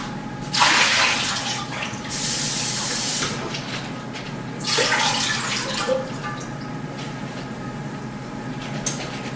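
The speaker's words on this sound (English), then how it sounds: "And now we're going to go ahead and rinse the water off of our potatoes." Tap water running while potatoes are rinsed, with a steady splashing stream that swells in two louder bursts as the flow hits the potatoes, then settles into a constant hiss.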